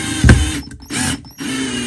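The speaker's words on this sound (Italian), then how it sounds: "voglio provare a avvitare queste viti piccole su questa superficie" Parkside 12V cordless angle drill driver spinning small screws into a surface in short bursts: a sharp whirring buzz at the start, then two more sustained motor runs separated by brief pauses, close and loud.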